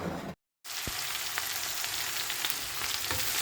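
Vegetable oil sizzles and crackles steadily in a pan, loud and close, after a brief dropout near the start.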